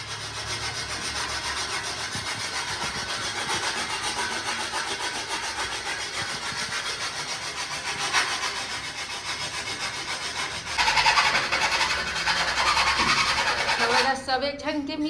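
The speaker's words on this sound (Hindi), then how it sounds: "ऐसने पाइप ला काटत, एक आवाज इतना इरिटेटिंग लगते" A pipe is being cut, a continuous harsh grinding and rasping that runs loud for the whole stretch and grows rougher near the end, with indistinct voices faintly underneath.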